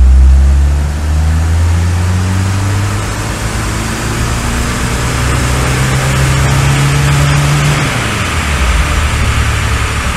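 A Peugeot 405 engine with about 330,000 miles revs steadily under load on a dyno in fourth gear, a loud continuous drone rising smoothly in pitch, then easing off near the end of the run.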